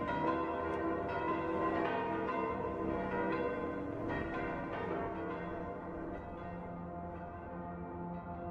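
Church bells in Germany ring together in a dense, layered peal with overlapping strikes and long sustained tones, fairly distant and steady throughout, slowly fading slightly toward the end.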